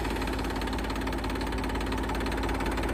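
A farm tractor engine runs steadily and loudly close by, with a constant rough, knocking chug and no pauses.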